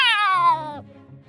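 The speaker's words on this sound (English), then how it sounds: "A cat with sharp teeth and sharp claws jumps up on the table." A single loud, drawn-out cat meow falls in pitch and then fades into a low rumble, heard alone.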